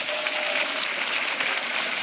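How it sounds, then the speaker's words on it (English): An audience at a panel discussion claps in a dense, steady burst of applause, close and filling the room for a couple of seconds. "Give yourselves a round of applause."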